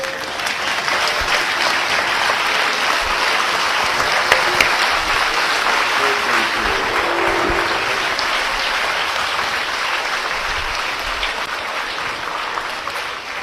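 Sustained, dense applause from an audience at a talk on India, steady and even in loudness throughout with no voices on top.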